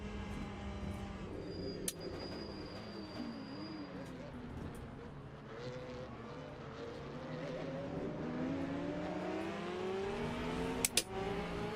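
Race car engines rise and whine through their gears in a sim racing game drag to the finish line, a steady climbing drone at moderate level, with someone speaking over it.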